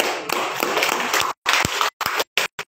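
An audience at a medical talk applauding, a dense burst of clapping that breaks off, followed by a few short scattered claps.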